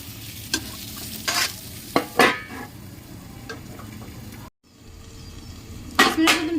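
Potatoes frying in a pan with a fish and potato curry, a steady low sizzle under several sharp scraping stirs, with a short gap of near silence before the sizzle returns with more stirring.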